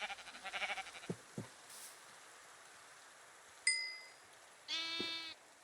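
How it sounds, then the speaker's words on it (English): Sheep bleating in the Minecraft video game, a short buzzy bleat near the end after scattered clicks, dings and a bright chime, fairly quiet and close with no talk. "And I killed all the sheep again."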